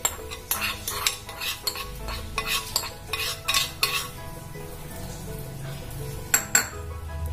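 Tempering being stirred into mixed vegetables in a pan for poriyal, with repeated clinking and scraping of a metal spoon against the pan over a faint background sizzle.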